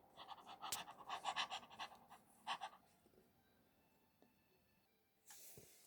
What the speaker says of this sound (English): The dog still panted.